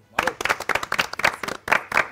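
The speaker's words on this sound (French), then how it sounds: "Monsieur applaudit." Studio audience applauding during a French Christmas comedy game show, dense clapping from a nearby crowd with uneven bursts that swell and dip.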